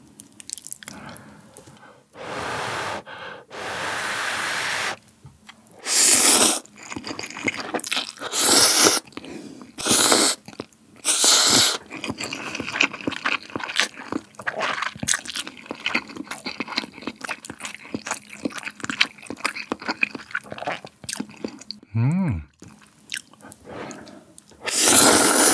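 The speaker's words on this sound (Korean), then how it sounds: "오늘 새우 소리 아주 제대로 들려드리겠습니다." Crunchy shrimp ring snacks are bitten and chewed alongside habanero lime buldak noodles, with loud, close crunches, moist chewing and occasional slurpy squishes recurring throughout.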